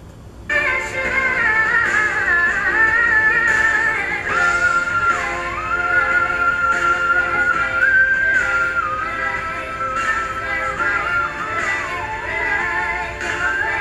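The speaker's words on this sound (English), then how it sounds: "Do y'all hear that whistle?" A high, wavering melodic line runs continuously over a dense musical backing in a song, sounding like sustained whistling or a whistle-like tone carrying the tune.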